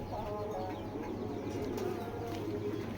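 Racing pigeons in a loft give soft, low cooing murmurs, steady and close, over a constant background hum, with no talking.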